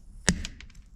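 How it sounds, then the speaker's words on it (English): Pliers snipping a plastic steering part on an Axial SCX24 RC crawler, one sharp close snap followed by a few faint small clicks. "grab a pair of pliers and chop right here and right here"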